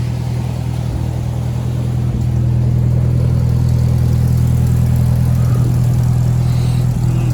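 A car's engine on a long road trip, heard from inside as a loud, steady low drone with a slight rise in level partway through; no talking.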